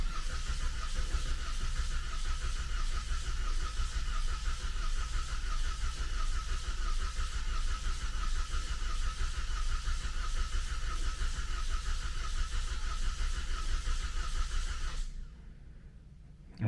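A 2014 Cadillac CTS 2.0T engine, freshly fitted with a new timing set and head gasket, runs at a steady idle with a continuous loud drone and a busy high-pitched clatter, then cuts off abruptly near the end.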